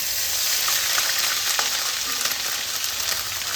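Ginger paste goes into a frying pan with chopped green chillies and is stirred, giving a loud, continuous close-up sizzle with occasional spatula scrapes and clicks throughout, and no voices.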